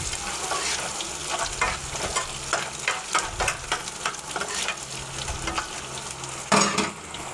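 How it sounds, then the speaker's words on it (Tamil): Small onions sauté in oil for a tomato chutney, sizzling continuously up close while a spoon stirs and scrapes the pan in repeated strokes. "அந்த வெங்காயம் நல்லா வதங்கட்டும்."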